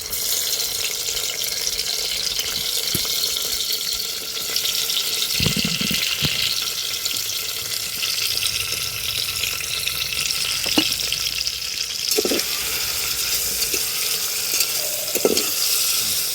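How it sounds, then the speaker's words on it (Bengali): Chopped onion and tomato frying in oil in a pressure cooker with whole spices, a steady broad sizzle running throughout, with a few soft stirring knocks near the end. "পেঁয়াজ আর টমেটোটা হালকা করে ভেজে নিয়েছি"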